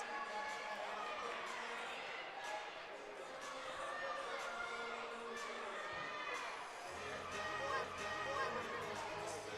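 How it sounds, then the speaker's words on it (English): Teammates cheer and shout from behind a gymnast during her routine at a college gymnastics meet at Ohio State, a continuous crowd roar with scattered whoops running through the whole stretch. "Teammates cheering her on from behind."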